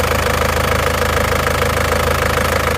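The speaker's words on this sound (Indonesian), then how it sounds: "Suara mesinnya istimewa." Isuzu Panther diesel car engine running after an engine overhaul with two new cylinder liners, a loud, steady, rapidly pulsing chug close by, heard alone without talk.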